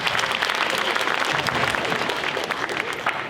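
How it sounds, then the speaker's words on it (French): Dense, sustained audience applause fills a large arena during a mentalism show at the Zénith de Strasbourg, with many hands clapping evenly at a loud, constant level and no pauses. "vous pouvez l'applaudir"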